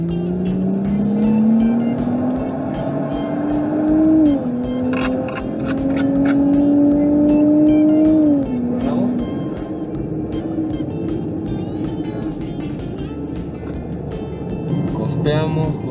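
A Nissan 400Z accelerating hard on a cone-marked driving course, its engine note climbing in pitch through two pulls before easing off, with people talking over it inside the car.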